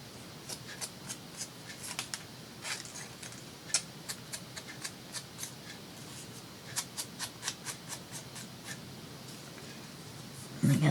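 Scissors trim paper pieces for a meadow-themed collage, producing a run of small crisp snips and cuts at close range, irregular and fairly quiet, with a brief louder rustle at the very end.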